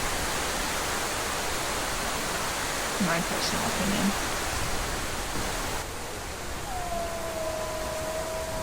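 A waterfall in the wolf game WolfQuest rushes as a steady, broad hiss of falling water, with a brief burst of game sounds midway and a person speaking over it.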